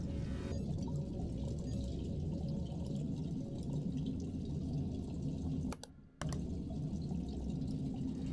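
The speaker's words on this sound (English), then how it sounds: "Someone's draining the water." Water drains in Observation Duty 7 as a steady, faint, hollow rush with soft dripping and trickling textures. It runs continuously, cuts out for a moment near the end, then resumes. No voices are present.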